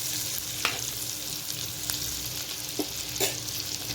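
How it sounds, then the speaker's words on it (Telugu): Onions and three green chillies frying in a pan for egg biryani until they turn brown, a steady close sizzle with a few sharp stirring clinks. "ఇవి కాస్త బ్రౌన్ కలర్ వచ్చే వరకు వేయించేసుకోవాలి"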